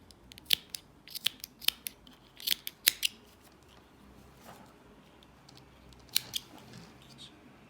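Scissors trim excess fabric from a skirt waistband in a series of quiet, close snips, grouped in quick clusters with short pauses between them, and no speech is heard.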